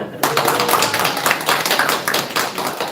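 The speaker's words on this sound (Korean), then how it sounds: "목사님 박수 한번 쳐주시죠" Church gathering applauding a pastor: dense, steady clapping from a room of people, fairly loud and continuous throughout, with some voices mixed in.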